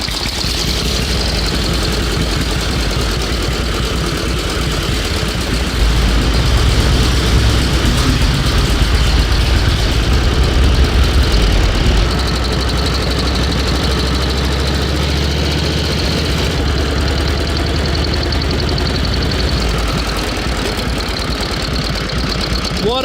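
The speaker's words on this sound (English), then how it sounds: "the 1916 Traub. You guys heard it run right here at Wheels Through Time." A 1916 Traub motorcycle engine runs steadily, a loud continuous rapid knocking and chugging, rising slightly in intensity for a stretch in the middle before settling back to an even idle, with no voices.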